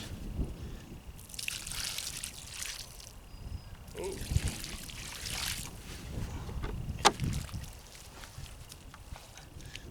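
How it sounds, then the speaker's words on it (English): Water poured around the base of a newly planted apple tree, a soft continuous splashing and trickling heard close by with outdoor rustle and handling noise. "We'll add some water."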